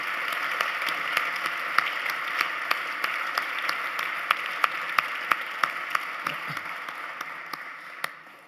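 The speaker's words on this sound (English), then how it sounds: "maybe we can give them a quick applause" A conference audience gives brief applause for a colleague just promoted to Director of Platform, a steady even patter of many hands with a few sharp claps standing out, moderately distant and tapering off at the end.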